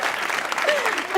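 A television studio audience claps together in a steady burst of applause, close and fairly loud, with a voice briefly audible underneath.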